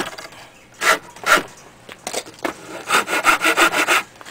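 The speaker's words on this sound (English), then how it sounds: "File only cuts on the push." A hand file rasps across carved wood on an inverted wind turbine propeller, with separated push strokes at first, then a quick, even run of about eight close strokes.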